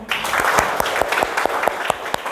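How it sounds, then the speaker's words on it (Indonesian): Students in an Indonesian classroom during a Pancasila lesson clap together, sharp claps landing in a fairly steady rhythm over a constant background hiss of group clapping. "Tepuk tangan untuk kita semua."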